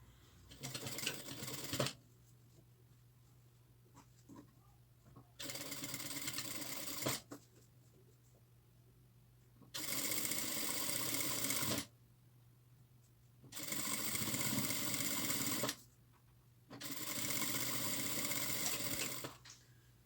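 Sewing machine stitching a fabric-and-plastic placemat, running in five separate bursts of steady rapid stitching with quiet pauses between them, heard close and alone.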